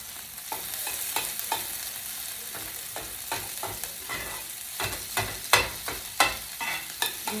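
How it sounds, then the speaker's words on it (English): Chopped food browning in a pan, with a steady sizzle broken by a series of sharp scraping or tapping stirs that grow louder and more frequent toward the end, no speech. "And we are just going to let that brown."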